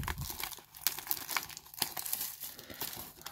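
A Pokemon card booster pack wrapper being torn open, heard as close crinkling and crumpling foil with a few sharp tearing snaps over about three seconds, with no talking.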